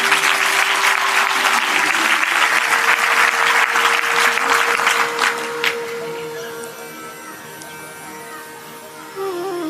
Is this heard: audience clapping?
yes